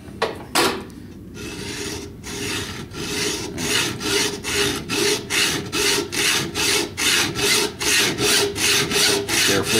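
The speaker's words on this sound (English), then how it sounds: "This is my highly specialized part-off tool, my Stanley hacksaw." A Stanley hacksaw cuts off the cap band of a fountain pen in a pre-started groove, with steady, regular back-and-forth rasping strokes, close and loud, about two strokes per second after a few uneven starts, with no voices.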